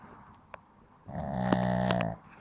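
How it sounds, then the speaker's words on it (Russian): A small dog snores in deep sleep, one long, nasal, rattling breath heard up close and fairly quiet after a brief soft click. "Мужики отдыхают, как он храпит."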